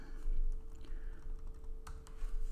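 Computer keyboard typing while coding, a run of quick, close key clicks in an irregular rhythm over a low background hum.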